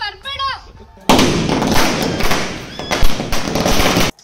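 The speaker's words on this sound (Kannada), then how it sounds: "ಈಗ ಪಟಾಕಿ ಸುಟ್ಟಾಯ್ತು," Firecrackers burst on a TV serial set: a brief voice, then a loud, close run of dense crackling bangs lasting about three seconds before cutting off.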